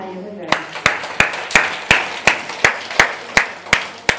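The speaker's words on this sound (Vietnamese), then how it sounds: "Một tràng pháo tay cho quý vị." An audience claps in unison, about a dozen sharp, evenly spaced claps in a steady rhythm, close and crisp, with no talking over them.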